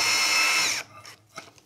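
A cordless drill fitted with a RUKO 3-in-1 bit bores into a 3 mm aluminium sheet at speed setting 2. A loud, steady whine lasts under a second and is followed by small clicks and handling sounds.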